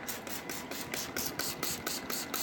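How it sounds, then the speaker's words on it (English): Repeated bursts of alcohol misted from a spray bottle onto glittery charcoal soap bars, about eight short, evenly spaced hissing spritzes at close range. "I'm going to spray these with alcohol"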